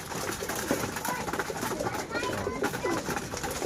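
Pigeons coo while being fed a flyer mix, soft throaty calls overlapping in a busy flock close at hand, with someone talking over them.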